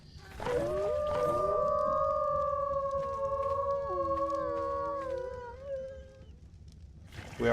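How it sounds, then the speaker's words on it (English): Wolves howl in the survival game ARK, several long overlapping wailing calls rising and bending together in a loud chorus before trailing off. "We are howling for the loss of the puppy, I guess."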